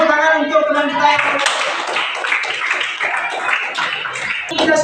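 Classmates in a classroom Islamic religious education lesson burst into applause for a fellow student: after a brief moment of talk, a dense, sustained patter of many hands clapping fills the room at close range.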